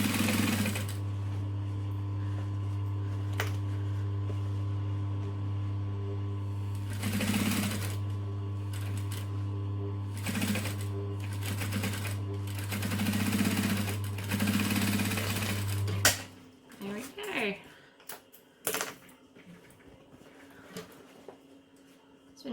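A sewing machine stitches the seam of a Heidi clutch bag in a steady, droning run of motor noise with brief pauses and clicks, then stops and gives way to handling and rustling sounds.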